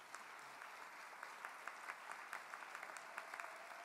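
Applause from a gala audience honouring cooperative and mutualist achievers in Quebec, a steady dense patter of many hands with a few sharper claps standing out, sustained and fairly distant throughout.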